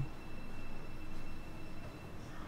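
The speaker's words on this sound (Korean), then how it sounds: "이제 첫 번째 지하철을 타고요." A subway train rumbles steadily along the tracks, with a low continuous roar and faint high whine, no talking.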